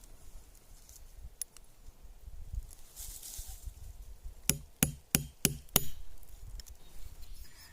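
A nail is hammered into a nopal cactus pad to punch holes: five sharp, close taps in quick succession, preceded by a couple of lighter knocks, with no talking.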